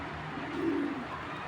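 A racing pigeon of Belgian bloodline gives a single soft, low coo midway through, faint and close against a quiet background hum.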